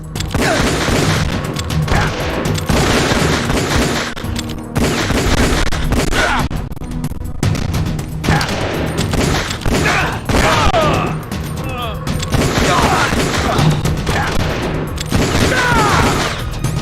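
Gunfire in Metal Gear Solid: The Twin Snakes, dense sustained bursts of shots and impacts filling the scene almost continuously, with brief lulls, mixed under game voices.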